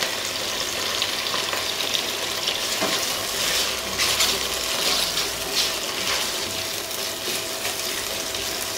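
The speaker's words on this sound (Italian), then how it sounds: "Aggiungiamo i carapaci dei gamberi e facciamo tostare per bene." Shrimp shells toasting in a hot pan for a shrimp bisque give a steady, loud, close sizzle and crackle, with occasional stirring scrapes and no voices throughout.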